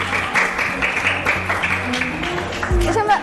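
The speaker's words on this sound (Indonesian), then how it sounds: "Dikasih tepuk tangan dulu biar semangat ke kelompoknya" Applause from a classroom of students cheering on a group about to present, a dense steady patter of clapping that stays close and fairly loud throughout, with faint voices mixed in.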